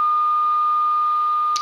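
An alarm sounds as one loud, sustained electronic beep tone held steadily for nearly two seconds, ending with a short click.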